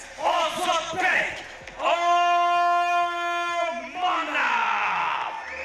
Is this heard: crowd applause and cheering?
yes